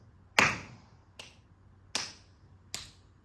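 A tala laghu is counted with rhythmic hand claps and finger counts. Four sharp, isolated hits ring out at an even pace in a quiet room, the first and third louder than the others.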